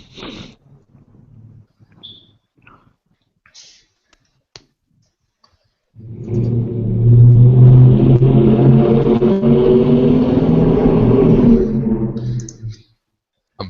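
Car engines roar and rev during a drag race, a loud sustained blast lasting about six seconds after scattered faint clicks, then cutting off abruptly.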